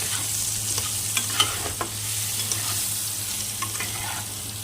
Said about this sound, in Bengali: দিয়ে ভালো করে এভাবে নেড়ে ছেড়ে লাল করে আলুগুলোকে ভেজে নিতে হবে।